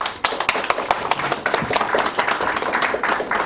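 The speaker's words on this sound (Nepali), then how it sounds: "आदरणीय सोल्टी दुर्गा गुरुङको लागि प्लिज एकपल्ट ताली बजाइदिनुहोस्" An audience at a film artists and technicians award ceremony applauds: a steady, dense patter of many hands clapping at once, lively and fairly loud, with no one speaking over it.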